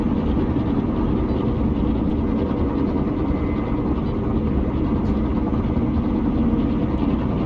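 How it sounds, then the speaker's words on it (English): An old helicopter in the S.T.A.L.K.E.R. video game drones steadily, its low engine and rotor noise loud and continuous throughout with no break. "I see this is one old helicopter you have, my old friend."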